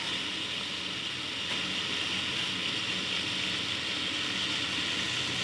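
Beef frying in a pot for biryani gives a steady, close sizzle with soft crackling and hiss, continuous and alone without talking.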